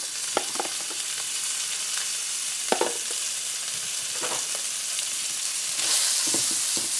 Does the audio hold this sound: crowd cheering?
no